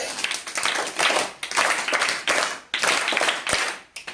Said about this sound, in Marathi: छान खेळणाऱ्यासाठी तीन टाळ्या